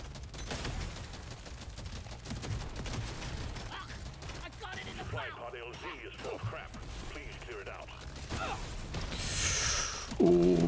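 Rapid gunfire from Deep Rock Galactic: Survivor, a sci-fi dwarf mining shooter, crackles as a continuous dense barrage amid game effects and a loud burst near the end, while a voice talks over it.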